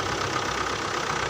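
A tractor engine idles while the tractor reverses with a tipper trailer, a steady, close mid-to-low knocking drone with no pauses and no voices.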